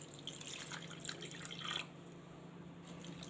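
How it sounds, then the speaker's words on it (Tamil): Water is poured over foxtail millet rice, urad dal and poha in a bowl to soak, a soft splashing trickle for nearly two seconds that then stops, leaving quiet background hum. "இப்போ தேவையான அளவுக்கு தண்ணி ஊற்றி ஊற வச்சுக்கலாம்"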